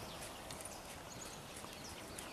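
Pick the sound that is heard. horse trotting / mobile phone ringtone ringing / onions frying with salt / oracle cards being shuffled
horse trotting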